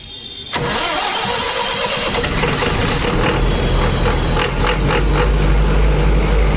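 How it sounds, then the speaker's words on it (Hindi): A Kirloskar diesel generator starts automatically on a timer, opening with a sharp crank-and-catch and then settling into a loud, steady running rumble with rhythmic mechanical ticking. "ये अपना इंजन स्टार्ट हो गया है"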